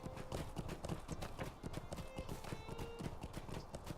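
Steady clip-clop of a horse's hooves during riding in Lord of the Rings Online, a brisk continuous rhythm at moderate volume with no talking.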